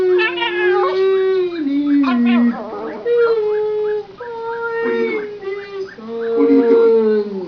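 A voice imitates whale speak, with long, drawn-out wailing moans that rise and fall in pitch, in several sustained phrases with short breaks, loud and close.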